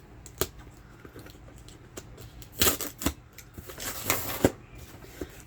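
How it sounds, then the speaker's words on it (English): A blade slicing open a cardboard package box of resin supplies, heard as scattered dry scraping and tearing bursts with a few sharper rips, close and fairly quiet. "Let me cut this open because it's going to make a bunch of noise when I do so."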